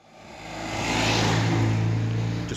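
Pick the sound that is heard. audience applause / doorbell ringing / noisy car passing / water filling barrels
noisy car passing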